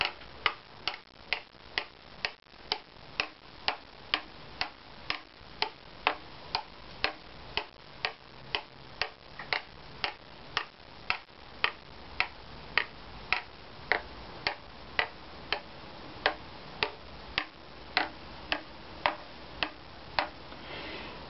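Tapping a violin top plate with a 6-inch, quarter-inch-diameter length of sound post stock, for the Opus 15 build: a long, steady series of about forty crisp, light taps at a regular rhythm, close and clear with no voices.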